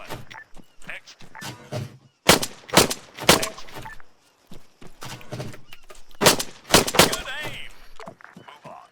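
Close-range pistol shots in the military shooter Arma 3 Apex, a string of loud, sharp cracks fired in quick irregular bursts with short pauses between them.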